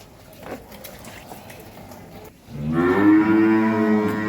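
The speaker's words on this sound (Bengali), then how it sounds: "একটা ফ্রিজিয়ান বকনা বাছুর" A ten-month-old Friesian heifer calf lowing loudly and close, one long drawn-out moo rising after a couple of seconds of quiet farmyard background.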